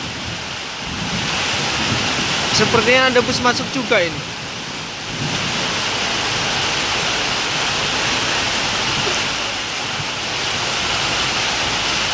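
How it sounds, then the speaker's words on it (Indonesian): Heavy rain pours steadily at Muara Bungo bus terminal in the evening, a dense continuous hiss throughout, with someone speaking briefly over it early on. "Ini posisinya hujan ini. Hujan lebat."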